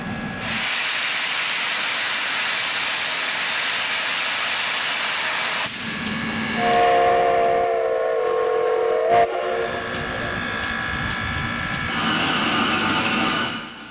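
US Sugar steam locomotive 148 hisses loudly and steadily as it builds steam pressure, a broad roaring vent of steam that shifts midway with tonal whistle-like hissing and rumbling underneath.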